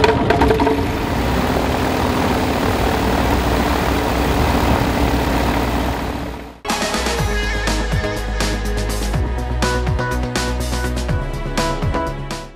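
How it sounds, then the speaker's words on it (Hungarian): Small aircraft engine is started before taxiing for takeoff: broad, steady noise for several seconds, then the engine catches into a loud, steady idle with a low throbbing drone close by. "majd beindítja a motort."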